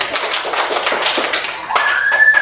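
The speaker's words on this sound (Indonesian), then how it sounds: "Tepuk tangan." A class of students claps hands together in a classroom, a close, steady patter of many claps lasting a couple of seconds, with a thin whistling tone rising near the end.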